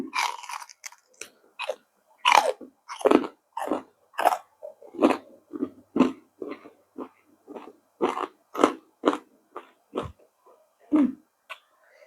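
Crispy pork belly being chewed with loud, close crunches in a steady rhythm of bites over about twelve seconds, with no talk.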